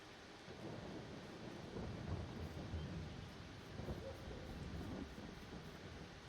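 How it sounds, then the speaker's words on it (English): Steady rain with low rolling thunder in a video game, set by a sunflower field; a continuous, fairly even wash of rainfall with deeper rumbles swelling underneath throughout. "With the rain going, I guess I could have left the time going."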